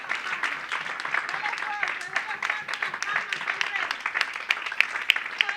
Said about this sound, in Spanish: Dele fuerte las palmas al Señor.